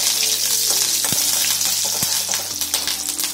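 Cumin seeds dropped into hot oil give a steady, close frying sizzle with a few sharp crackles and pops over about three seconds, with no one speaking.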